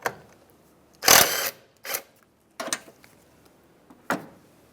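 Metallic clicks and short ratcheting bursts from a wrench loosening the 10 mm nuts on the battery hold-down crossbar of a 2007-2015 Mazda CX-9, in several separate close bursts with pauses between.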